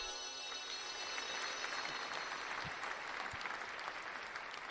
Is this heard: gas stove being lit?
no